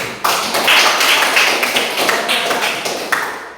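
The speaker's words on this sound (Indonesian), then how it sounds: "kita beri aplaus untuk kelompok Matius" An audience applauds a group presentation in a classroom with a dense, steady patter of hand claps, close by and lasting a few seconds.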